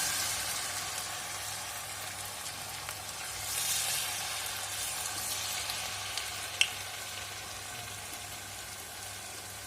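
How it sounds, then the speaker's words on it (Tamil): Maida bondas fry in hot oil with a steady, close sizzle that swells briefly and then settles, with one sharp crackle partway through and no voices. "இப்போவும் போண்டா பஜ்ஜி சுடுவோம் இல்லைங்களா, வடை சுடுற மாதிரி கொஞ்சம் நேரம் கழித்து திருப்பி விட்டுக்கலாம்"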